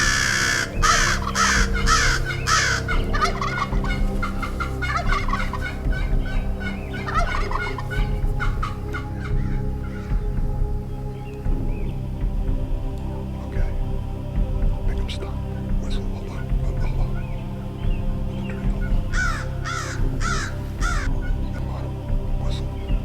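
A wild Merriam's turkey tom gobbles repeatedly and loudly in bursts, answering mouth and box calls in open Wyoming country, with quieter stretches between the gobbles.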